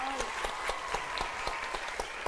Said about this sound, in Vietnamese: Đúng rồi, vỗ tay.